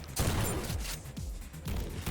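Shotgun blasts in the fast-paced shooter GTTOD: Get To The Orange Door boom loud and close as a rapid cluster of heavy shots, with dense rumbling bursts across a couple of seconds.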